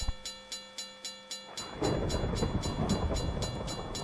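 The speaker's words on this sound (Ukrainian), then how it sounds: "Так вже локомотив під'їжджає." A locomotive approaches a railway crossing while the crossing bell clangs in a steady, evenly spaced rhythm; midway the loud rumble of the train rolls in close and continues under the ringing.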